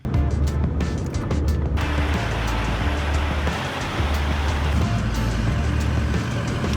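A tow rig truck pulling a Chevrolet Avalanche drives along with a loud, continuous low engine drone and heavy road and wind noise, the rumble shifting in level partway through as it rolls on.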